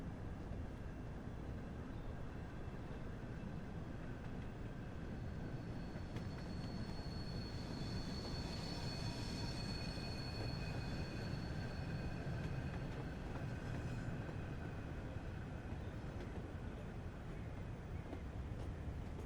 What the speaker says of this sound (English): we've got a train coming in.